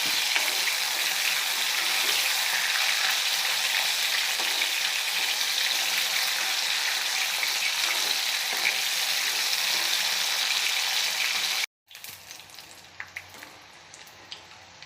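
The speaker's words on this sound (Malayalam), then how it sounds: "ഉപ്പില്ലാതെ നമ്മൾ മാങ്ങ അരിഞ്ഞ് വറുത്ത് കോരിയെടുക്കുക" Sliced mango pieces fry in oil with no salt, giving a loud, dense, continuous sizzle close up that cuts off abruptly near the end, leaving only faint sputters and clicks; no talk.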